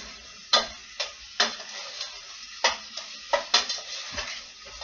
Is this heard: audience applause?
no